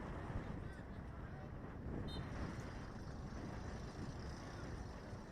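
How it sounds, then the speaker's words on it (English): Wind buffets the microphone in a steady rumbling rush at an outdoor football match, with faint distant sounds in the background. "It's very windy right now"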